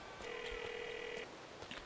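A single short electronic phone ring tone in Grand Theft Auto IV, a steady synthetic buzz lasting about a second, fairly quiet against a faint background hiss.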